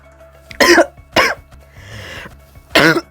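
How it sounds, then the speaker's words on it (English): A person coughing hard at close range, three loud harsh coughs separated by a raspy breath in between, with a low steady hum in the background. "I've been fucking coughing for so long."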